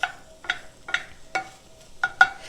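Eggs frying in a pan over medium heat give a soft crackle and sizzle, with a few sharp scraping pops about every half second, close by and fairly quiet.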